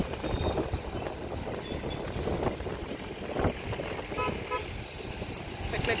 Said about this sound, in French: Ça klaxonne un peu, mais un peu moins qu'en Inde quand même.